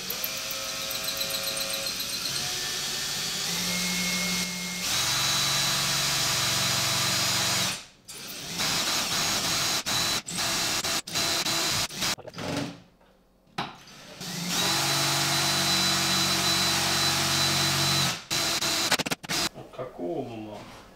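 Power drill boring through ceramic tile during a DIY range hood replacement, a loud grinding whine in long bursts broken by short pauses, with someone talking between runs.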